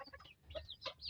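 Darag native chickens cluck softly in short, irregular calls, faint and somewhat distant over low background noise, with no talking.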